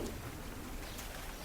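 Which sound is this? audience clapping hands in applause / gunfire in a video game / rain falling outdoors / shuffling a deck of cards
rain falling outdoors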